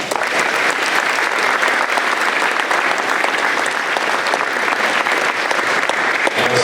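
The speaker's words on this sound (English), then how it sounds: "big round of applause for our staff and teachers" At a school awards night, a large audience gives a long, even round of applause for staff and teachers, dense steady clapping filling the room throughout, loud and unbroken by speech.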